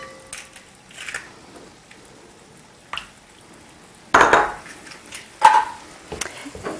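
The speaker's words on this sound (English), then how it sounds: "I'm going to break 2 eggs into our bowl here" Two eggs are cracked into a bowl for a Mexican lasagna filling, heard as a few sharp knocks and clinks against the bowl separated by quiet pauses.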